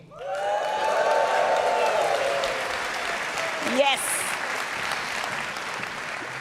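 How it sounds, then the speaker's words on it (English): An audience at the World Cheese Awards super jury final in Bern, Switzerland breaks into loud sustained applause and cheering with whoops, filling a large room, after a brief spoken word. "please can you give me a cheer?"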